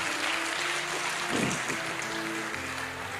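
A church congregation claps during a Sunday sermon, a dense spread of applause that holds steady with a slightly louder burst in the middle and no clear talking.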